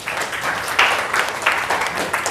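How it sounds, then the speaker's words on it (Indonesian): A classroom of students claps their hands in a short burst of applause, close and lively with uneven bunches of claps. "Ya, tepuk tangan dulu."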